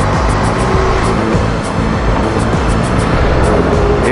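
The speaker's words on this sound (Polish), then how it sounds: "Jedzie auto." A car passing close by outdoors, a loud, steady engine-and-tyre roar filling the whole stretch with no voices.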